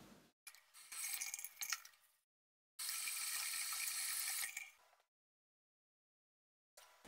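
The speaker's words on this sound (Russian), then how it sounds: "Я обычно мою ее губкой с хозяйственным мылом" A circuit board being washed with a sponge and household soap under running water, two bursts of tap flow and scrubbing separated by silence, with faint clinks, fairly quiet and close.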